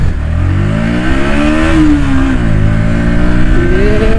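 A Bajaj Pulsar NS125 motorcycle engine revs up and down close by, its loud rising and falling pitch sweeping across several seconds with steady mechanical clatter and no talking.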